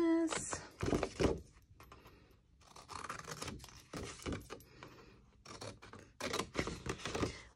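Scissors snip through cardboard while a paper Kit Kat box is made, giving several uneven bursts of cutting and scraping close by, with short pauses between strokes.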